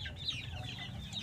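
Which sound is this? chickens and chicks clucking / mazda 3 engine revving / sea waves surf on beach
chickens and chicks clucking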